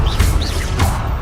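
Magic bursts from the Expelliarmus disarming spell in Hogwarts Legacy: two or three quick swooshing, crackling blasts with rising whistling tones, loud and close over a steady rumbling game-music bed.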